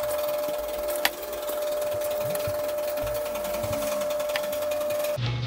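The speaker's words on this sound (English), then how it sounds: "My washer's going a little crazy. I have some drop sheets in there." A washing machine loaded with drop sheets runs with a steady mechanical hum and a constant whine, broken by an occasional knock, and the drone continues without pause until it stops abruptly.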